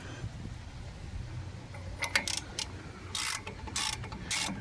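A hand ratchet tightens a brake caliper bolt on a 2014 Dodge Ram 1500, giving quick bursts of sharp metallic clicks in several short runs, fairly close over a low background hum.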